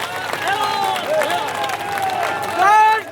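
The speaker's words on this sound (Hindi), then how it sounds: "एक बार जोरदार ताली बताओ" A crowd at a public development-works inauguration ceremony in Jaitaran breaks into applause mixed with cheering voices, a dense steady wash of sound that swells louder near the end.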